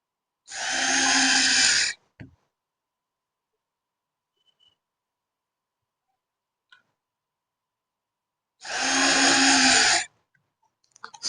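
A stand is screwed onto a photo frame board, heard as two loud whirring bursts, each under two seconds, separated by a long quiet pause with a few faint clicks.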